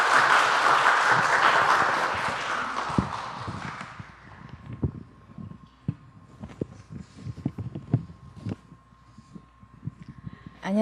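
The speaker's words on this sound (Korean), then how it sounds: "Let's welcome her with a round of applause." Church congregation applauding to welcome a speaker to the stage, a loud wash of clapping that fades out after about four seconds, followed by scattered footsteps and knocks in a quiet room.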